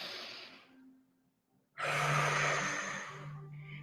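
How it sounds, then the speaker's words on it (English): A slow, deep breath drawn in during a guided self-love relaxation exercise, a loud airy inhale after a softer breath and a short pause, heard alone and close. "Let's take a deep breath in together."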